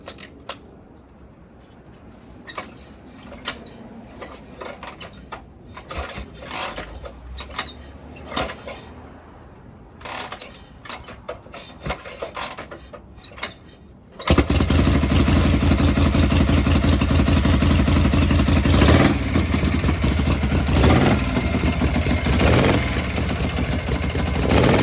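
A Shovelhead chopper motorcycle is kick-started with a few scuffing mechanical clanks, then the engine catches and settles into a loud, steady, close idle that continues to the end.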